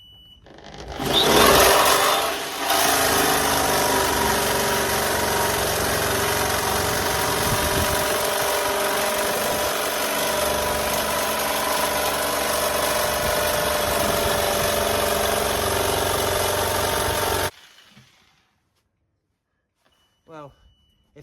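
An old Black & Decker jigsaw cutting a hole, a loud, steady, rough motor buzz that runs for about fifteen seconds before stopping abruptly, leaving near silence with a few faint sounds.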